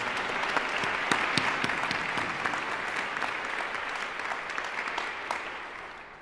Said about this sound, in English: So how about a round of applause for your friends and your families?